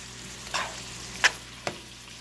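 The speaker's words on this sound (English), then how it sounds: "we'll just put our noodles right in there. And what I'm going to do is just kind of mix them all in." Noodles being mixed in a hot frying pan give a steady soft sizzle with a few scrapes and clinks of a utensil, close and moderate in level, with no voices.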